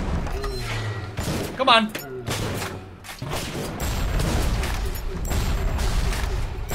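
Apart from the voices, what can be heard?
gunfire in video game BioShock Remastered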